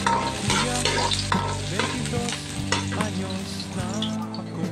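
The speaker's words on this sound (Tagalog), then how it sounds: "Igisa na po natin yung ating sibuyas." Onions sautéing in cooking oil in a pan for Bicol express, a continuous close sizzle with repeated scraping and stirring knocks from a utensil, and no one speaking.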